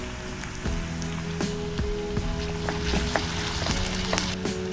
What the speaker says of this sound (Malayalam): അരിഞ്ഞു വെച്ചിരിക്കുന്ന പച്ചമുളകും സവാളയും ചേർത്ത് ഈ രണ്ട് മിനിറ്റ് വഴറ്റാം